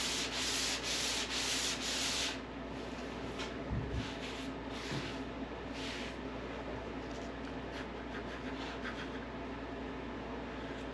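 400 grit sandpaper rubs over a guide-coated 1946 Ford hood, with a loud, fast back-and-forth scrubbing at first that settles into lighter, quieter, steady rubbing.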